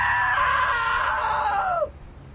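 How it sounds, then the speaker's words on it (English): A woman's loud, drawn-out scream in What Remains of Edith Finch, held high and strained for nearly two seconds before sliding downward and cutting off abruptly, leaving a quiet hum. "Now that was a great scream."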